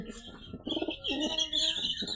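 Pigeons coo softly and steadily at close range, giving low, rolling calls mixed with a few higher chirps, with no talk.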